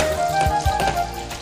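Onions and green chillies fry in a hot pan with a dense, continuous sizzle that stays steady and close throughout, with no voices.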